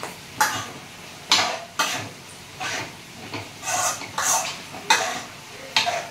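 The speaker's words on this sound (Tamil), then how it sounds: "கீரை வெந்துட்டுருக்கு." Greens cooking in a pan and stirred with a utensil, making a series of about eight sharp scraping strokes at fairly regular intervals over a soft sizzle, close and fairly loud.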